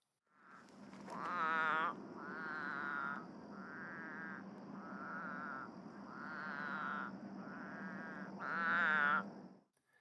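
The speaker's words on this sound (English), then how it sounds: "This is the croaking of the North American spadefoot toad" North American spadefoot toad croaking in a series of about six nasal, bleating calls, each lasting roughly a second, close and clear against a quiet background.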